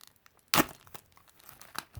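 A gilded tarot card deck being unwrapped, one sharp tearing rip of packaging followed by soft crinkling and rustling, close and fairly quiet.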